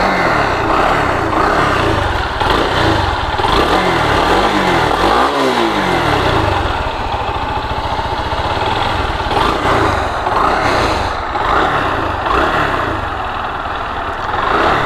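A Bajaj Pulsar AS 150 motorcycle with about 100,000 km on it idles loudly close by, its engine giving a few quick revs early on before settling back into a steady, rough-edged idle.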